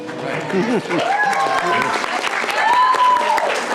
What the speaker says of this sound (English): that's some good cheering to begin with